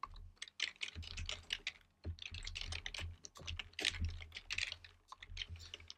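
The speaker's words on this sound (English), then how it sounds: "I'm just going to type in here." Quick, uneven clatter of fingers typing on a computer keyboard, close and fairly quiet, in short bursts with brief pauses and no talking.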